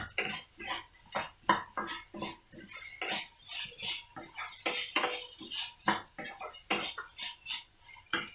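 Potatoes with salt are sautéed in a pan for a garlic potato fry: a spoon scrapes and clinks against the metal in an irregular series of close, sharp knocks, with brief quiet gaps between strokes.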